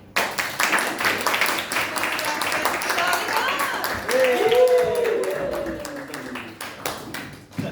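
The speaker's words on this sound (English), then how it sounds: "So can I get a nice round of applause going?" Audience at a comedy club in Bath claps and cheers steadily for several seconds, with whoops and raised voices rising through the crowd noise.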